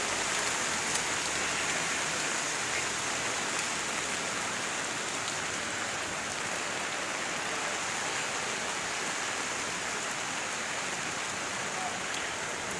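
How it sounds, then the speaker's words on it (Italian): Steady rain falls on a town street during a flood in Roccapiemonte, Campania, pattering on surfaces in an even, continuous hiss, moderately loud and unbroken throughout. "10 minuti che piove."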